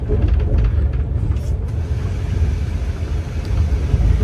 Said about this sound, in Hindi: यहाँ पे कोई सी ट्रेन को तो हम ओवरटेक कर रहे हैं